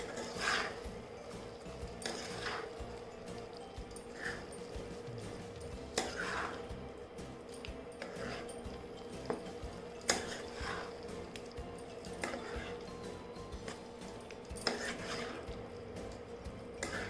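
A spoon stirs Chettinad chicken with cloves, bay leaf and dried red chillies in a pan, giving faint repeated metallic scrapes and clinks at an uneven rhythm over low kitchen background.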